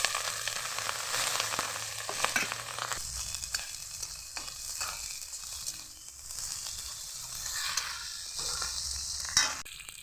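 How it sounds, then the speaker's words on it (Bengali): Spices, bay leaf, ginger paste and chopped tomato fry and get stirred in a pan for a fish curry, a continuous close sizzle with scraping stir strokes and no talking. "ভালো করে মশলাগুলোকে কষিয়ে নিচ্ছি"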